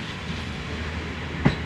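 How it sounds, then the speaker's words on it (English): Rumble of a Reading-bound passenger train pulling out of Basingstoke station, steady and fairly loud with a faint clack of wheels, one sharper thump near the end. "Reading train's just leaving behind it."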